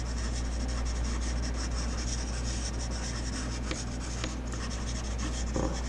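Ebony pencil scribbling across drawing paper in quick gesture strokes, a steady close scratchy rasp that runs continuously with small pauses and shifts in pressure.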